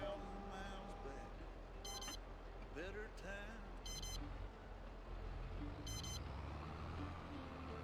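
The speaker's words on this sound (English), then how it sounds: "ignore the beeping" Vehicle reversing beeps in Farming Simulator 22 repeat in short high bursts roughly every two seconds over a steady low engine rumble and other game sounds.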